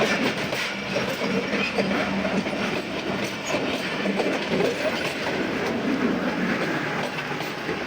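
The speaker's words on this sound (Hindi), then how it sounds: "हमारी ट्रेन ड्राइवर को देगा और फिर ट्रेन रवाना होगी यहाँ से" A passenger train pulls away on a single-line railway, a loud, continuous rumble of wheels and carriages with steady clickety-clack rolling close by. No voices can be heard over it.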